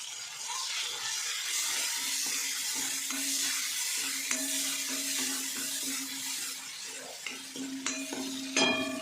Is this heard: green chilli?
yes